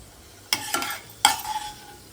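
Cashews and raisins frying in ghee and coconut oil for kesari, a soft sizzle under a few quick spoon scrapes and stirs against the pan.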